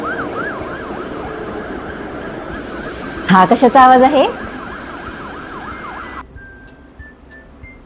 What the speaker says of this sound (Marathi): ॲम्ब्युलन्स. बरोबर.